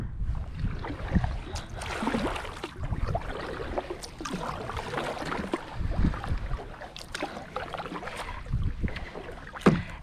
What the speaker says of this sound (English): We're going to paddle over on this side of the dock and see if we can catch something over there.